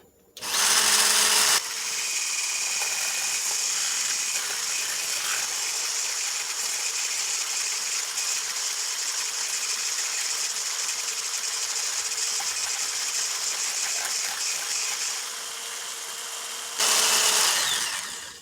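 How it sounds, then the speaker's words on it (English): An electric mixer whirring steadily as it beats no-bake chocolate cheesecake filling, loud and close, with a brief higher-speed burst at the start and again at the end. "You can use any kind of mixer."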